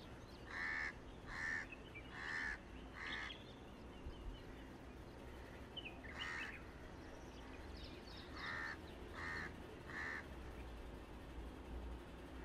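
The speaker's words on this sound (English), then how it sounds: "that's what a crow sounds like, which is really low pitched. It's also harsh and scratchy." Crows calling in a recording: harsh, scratchy, fairly low-pitched caws arriving in two rhythmic bursts of about four calls each, with a few softer calls between them, over a faint, steady background hiss, with no talking.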